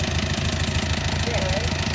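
Engine of a homemade two-axle farm vehicle, a double-axle utility truck rated to haul about 8 tons, running with a steady, rough low knocking throb that stays loud and close throughout.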